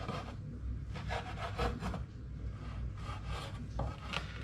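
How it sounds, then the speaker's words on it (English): A knife saws through a slab of baked apple flapjack, slicing it into pieces with a soft, scraping, rasping stroke repeated several times at close range. "now it's simply a case going along, cutting it into pieces, or slices to begin with"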